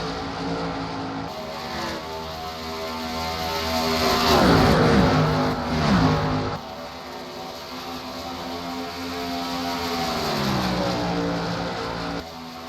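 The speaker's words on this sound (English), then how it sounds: "Jimmy's going to sneak by up high. Here comes the 12 of Newman down low." Race cars roaring around Charlotte in a NASCAR racing video game, a continuous engine drone that swells as cars pass close around the middle and again near the end, with no talk over it.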